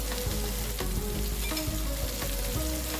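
Chili paste for Malaysian Nyonya stuffed-chilli fish goes into a pan with a steady close sizzle and frying crackle, accompanied by a few light scraping and tapping strokes.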